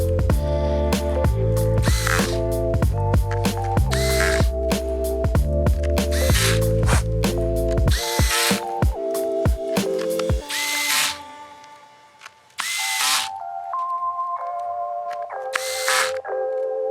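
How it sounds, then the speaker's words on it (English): Power screwdriver driving screws into the bottom cover of an Acer Chromebook 511 C736T, close and loud in repeated whirring bursts, then a few short spaced zips near the end. "then you can put the screws back into the bottom cover"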